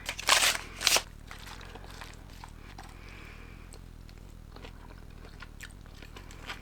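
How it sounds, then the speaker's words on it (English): Pickled radish is bitten with two sharp, loud crunches near the start, followed by quieter chewing and faint clicks against low background noise. "The crunch of the pickled radish is just incredible"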